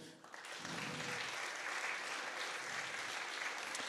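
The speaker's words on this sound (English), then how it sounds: "Can I get another round of applause?" Audience applause at a university entrepreneurship innovation challenge final, swelling quickly into a broad sustained roar of clapping from a large crowd, steady and even to the end.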